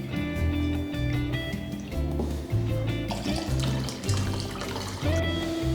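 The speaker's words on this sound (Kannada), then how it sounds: "ಈಗ ಈ ನೀರನ್ನ ಸ್ಲೋಲಿ ಬೇರೆ ಬೌಲ್ಗೆ ಟ್ರಾನ್ಸ್ಫರ್ ಮಾಡ್ಕೊಳ್ಳೋಣ" Rice washing water is poured slowly from one bowl into another, giving a soft continuous trickle under a steady background music bed.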